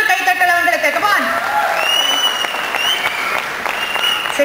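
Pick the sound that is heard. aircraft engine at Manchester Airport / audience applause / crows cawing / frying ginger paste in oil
audience applause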